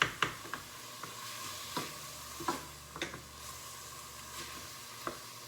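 Chopped cauliflower and onion are stirred in a pan, a quiet, low sizzle broken by soft, irregular taps and clicks of the spoon.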